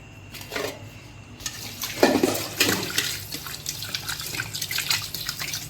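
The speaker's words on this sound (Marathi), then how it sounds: "अशी खळा खळा धुवून घ्यायचे" Fish being washed by hand in water in a home village kitchen, with splashing and trickling water rising and falling in short bursts, fairly close and steady, with no talking.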